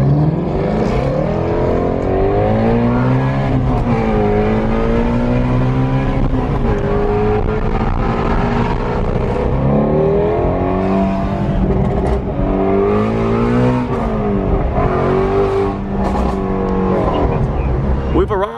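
Ford Mustang engine revving and accelerating hard, loud rising and falling tones climbing through gears, heard close from inside the car, with a voice partly underneath.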